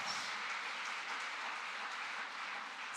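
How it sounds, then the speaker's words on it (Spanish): An audience at a church service applauds for Jesus, a steady dense wash of clapping that fills the whole stretch at even loudness, with no voices over it. "Dale un aplauso al Señor Jesús."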